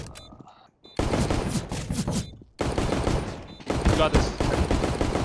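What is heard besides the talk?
gunfire from a video game shooter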